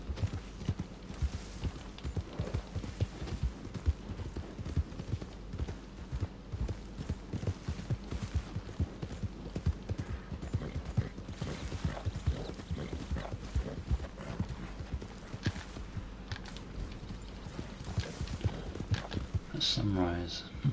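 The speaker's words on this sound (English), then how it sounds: "The wild horses." Hooves of wild horses galloping in Red Dead Redemption 2, a dense, steady clip-clop drumming that runs throughout with occasional whinnies, while someone talks over it.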